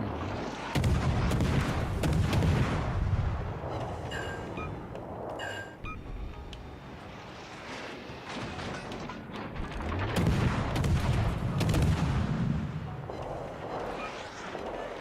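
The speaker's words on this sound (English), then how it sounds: "I was giving broadside to the Musashi." Heavy naval gunfire from a warship firing broadsides in a video game, with repeated deep booming blasts and rumbling across the whole stretch, loud and continuous, no talk over it.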